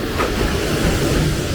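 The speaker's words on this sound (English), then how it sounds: "the train was traveling full speed" A train rushes past at full speed in Hanoi, Vietnam, a dense, loud roar of wheels and rumbling carriages filling the whole moment without a break.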